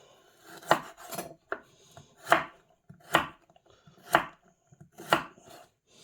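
An unpeeled, washed carrot is chopped with a knife on a board: about six sharp, close knife strikes at an uneven, unhurried pace, with quieter scraping between them and no talking.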